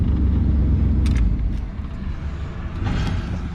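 A van's engine rumbles at close range while driving, a loud low drone that eases slightly partway through, with a few faint mechanical clicks and no voices.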